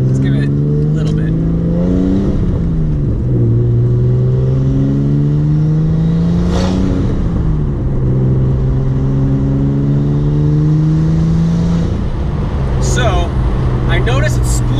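Nissan R32 Skyline GTS-T with an RB20 engine fitted with an RB25 turbo, revving hard through the gears as the turbo spools, with rising and falling harmonic engine tones loud and close throughout, and a brief whoosh or shift between pulls.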